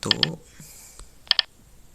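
Short bursts of crisp keyboard clicks from typing CNC program codes into a simulator, two quick pairs of taps separated by a pause, close and fairly sharp in a quiet room.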